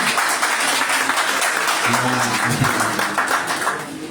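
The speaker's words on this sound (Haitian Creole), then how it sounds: "Applaudis." Audience applause at a live spoken performance, a steady wash of clapping that fills the clip, with voices talking underneath.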